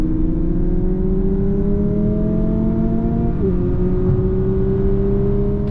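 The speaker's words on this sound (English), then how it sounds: "here I have an ASC button, which adds in off-key engine noise" Lexus UX SUV engine with its ASC synthetic engine sound on, a loud steady droning whir heard from inside the cabin, its pitch rising slowly before it briefly drops as the gear shifts and climbs again.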